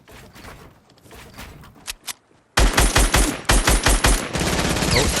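Gunfire in Fortnite: after quieter, scattered shots, a loud rapid burst of automatic fire breaks out and continues in close, repeated volleys.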